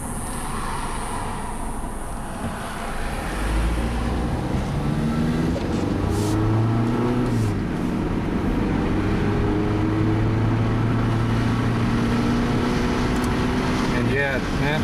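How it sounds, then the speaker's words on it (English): Honda car driving with the air conditioning on and hard-shifting trouble, its engine droning and climbing in pitch through gears, with a voice talking over the steady road noise. "Now let's take it for a drive and see how it does with the AC on."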